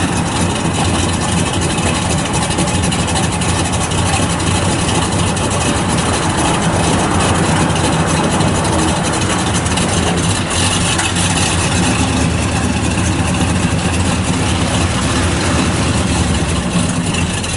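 A 1971 Buick Gran Sport engine with a stock-type muffler idles steadily and loudly for the whole stretch, a low continuous rumble with a mild exhaust burble and no voices.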